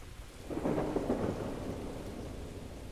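Thunder booms in the video game Echostasis, a deep rolling rumble that swells after half a second and lingers with a low echoing tail over steady rain-like hiss, fairly loud and alone.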